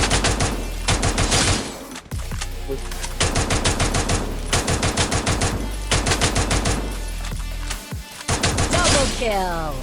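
Rapid automatic gunfire from the Free Fire video game rattles in dense, loud bursts separated by brief pauses, with a final burst near the end.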